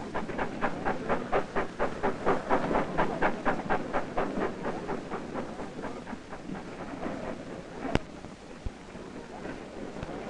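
Train cars rolling along rails near railroad yards beside a grain market, heard as a steady rhythmic clatter of wheels over track joints, fairly close and continuous, with a couple of sharp clanks toward the end.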